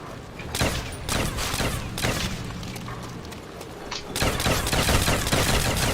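World War II weapons fire in Call of Duty: World at War, loud dense bursts of gunshots and booming reports packed close together with barely a pause, continuing throughout.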